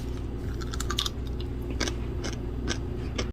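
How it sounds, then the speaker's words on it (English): Close, crisp crunching and biting, with irregular sharp crackles as crunchy sweet pickled cucumbers are chewed. "if you listen real close, they're still crunchy"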